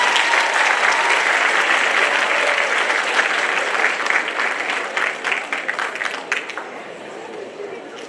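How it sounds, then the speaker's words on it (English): Sustained audience applause at a talent show, a dense wash of clapping that holds strong and steady before thinning slightly toward the end, with some crowd noise mixed in. "Let's give a big round of applause for Northers"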